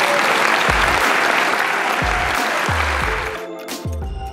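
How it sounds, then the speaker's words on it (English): Audience at an awards evening claps steadily in a dense, close wash of applause that thins out toward the end, with a few low thumps underneath. "So let's have another round of applause."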